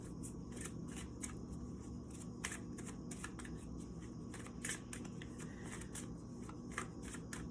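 A card is drawn from a love and light oracle deck, making a steady papery shuffling and riffling with quick card flicks, close and fairly soft, with no voices.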